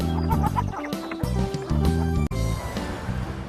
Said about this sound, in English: In the country, we hear chickens clucking.